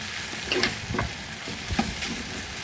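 Taro stolons with dried shrimp fry in a pan, a constant close sizzle broken by a few scraping stirs of the spatula.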